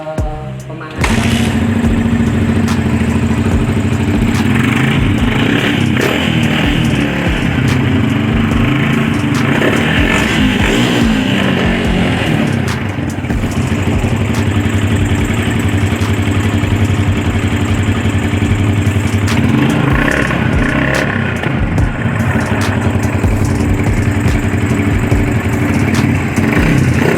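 A motorcycle engine warms up at SMK PIRI 1 Yogyakarta after several days without being run. It idles loudly and steadily up close, with a few revs and rattles along the way.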